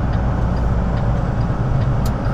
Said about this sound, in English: You can tell it's cold because the motor gets louder.